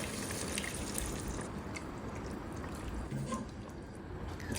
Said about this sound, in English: And then you're going to add more water to top it up and allow it to cook.